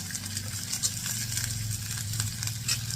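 Chopped amaranth stems hit hot oil in a pan, giving a loud, continuous close-up sizzle and crackle with steady popping.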